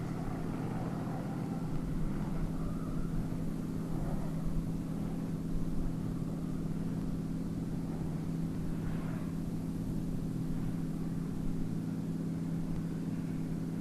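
A Nissan Silvia S15 drift car engine at a drift championship, a steady distant droning roar with some rising revs, heard from afar over crowd ambience.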